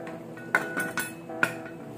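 A lid set down on a soup pot, giving a few sharp metallic clinks and rattles close by in a quiet kitchen, with no talking.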